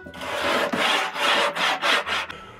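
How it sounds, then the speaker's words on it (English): Sanding block rubbed back and forth along the wooden rails of a homemade kite board, several rhythmic close-up strokes with short gaps between them, alone. "Now you can do that with a sanding block"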